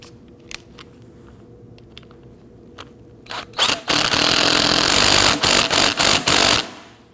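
A tensioner pulley bolt being tightened on a 2001-2009 Volvo S60 2.5L five-cylinder, with a few light clicks and then loud, close bursts of a power tool running in short stretches.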